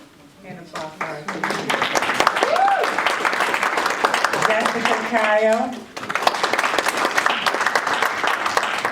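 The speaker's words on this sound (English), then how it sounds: "And applause for her." Audience applause at a graduation ceremony for the graduates, a dense steady wash of clapping running throughout, with a voice speaking over it and a brief dip before it resumes.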